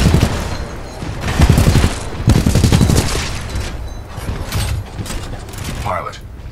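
Video game Titanfall 2 gunfire: dense, sustained bursts of rapid automatic shots in loud clusters, with voices talking over the action.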